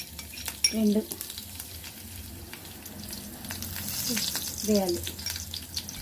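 Cumin and garlic frying in hot oil give a moderate sizzle with clinks and scrapes of a utensil, while a voice talks briefly over it.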